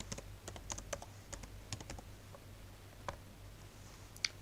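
Someone types on a computer keyboard: quiet, close key clicks in irregular bursts with short pauses, and one sharper tap near the end, with no speech.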